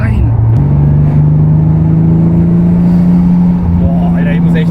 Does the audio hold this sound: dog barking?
no